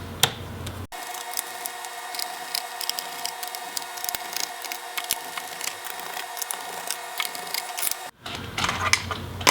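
Torx perimeter screws being removed from the case of an Asus Zenbook Pro UX501V laptop: a close, steady mechanical whir lasting about seven seconds, with faint clicks and brief quiet gaps before and after.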